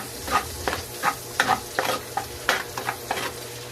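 Garlic sautéing in a pan for carbonara, a close sizzle punctuated by about a dozen quick stirring scrapes in an uneven rhythm over a low background hum, with no speech.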